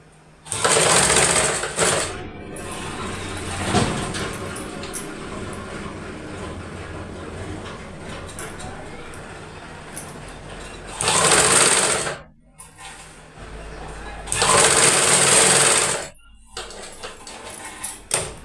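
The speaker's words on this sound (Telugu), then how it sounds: "ముక్కు చుట్టూ గట్టి కుట్టు అయితే వేసేసుకుందాం" A sewing machine stitching around the neckline of a blouse runs in three separate loud, whirring bursts. Quieter room noise and handling sounds fill the pauses between them.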